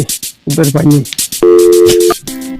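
A telephone tone sounds while a call is being placed, steady and loud for about half a second, then briefly again. People talk nearby just before it.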